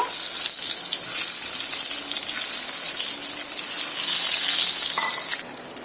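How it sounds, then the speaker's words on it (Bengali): Eggs coated with chili and salt fry in hot mustard oil, giving a loud, steady, close sizzle that runs the whole time and eases slightly at the very end, with no talking. "মরিচ আর নুন মাখানো ডিমগুলো এবার আমি ভেজে নেব"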